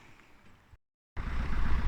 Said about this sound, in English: the engine's running and we're going to give it a go.